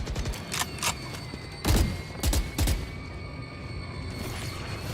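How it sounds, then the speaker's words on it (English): Heavy shotgun blasts in a video game, three or four booming shots spaced about half a second apart over a dense, noisy game background. "shotgun"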